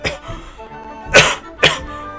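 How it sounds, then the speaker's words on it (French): Two sharp, close coughs burst out in quick succession after some quiet background murmur. "Pardon tout le monde, je tousse."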